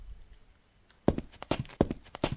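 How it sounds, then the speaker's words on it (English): Game footsteps and a jump in a Unity first-person shooter, heard as about five or six sharp thuds spaced unevenly over a second and a half after a quiet start, each one clear and fairly loud. "You can hear we're walking when we're moving, and we're jumping."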